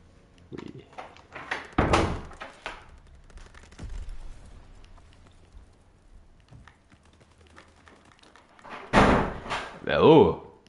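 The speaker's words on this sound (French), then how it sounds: "Que ça claque les portes." Video game doors slam in a few loud, sharp bangs, separated by quieter stretches with scattered clicks, while a person talks intermittently over the game.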